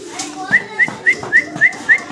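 Seven short, bright cooing calls from racer pigeons repeat at a steady pace, fairly close, with faint murmuring in the background.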